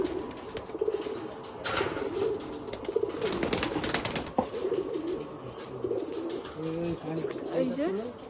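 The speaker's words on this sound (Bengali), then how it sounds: "এগুলো সব আমাদের পাখি যেগুলো উঠছে।" Pigeons on a rooftop coo and burst into flight, wing flaps fluttering near the middle, while people talk over the birds and soft cooing continues toward the end.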